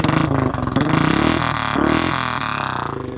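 A Royal Enfield Classic 350 with an aftermarket exhaust pipe runs close by, a loud, throaty engine with a rapid pulsing thump and brief rises in revs.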